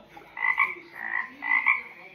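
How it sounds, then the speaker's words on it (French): A frog croaks from a recording in three distinct, evenly spaced raspy bursts, each about half a second long, close and clear with no talking. "Voici un son de grenouille."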